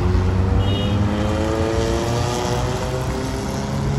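A car engine runs on a small-town street in Russia, a steady low droning rumble that holds at a constant level, fairly close and loud, with no voices over it.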